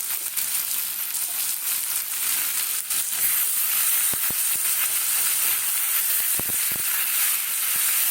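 Vegetable curry with spices frying in a pan for khichuri with mixed vegetables, a steady broadband sizzle and hiss throughout with a few faint clicks of stirring.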